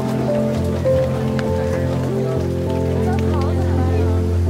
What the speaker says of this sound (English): Non-stop torrential downpour.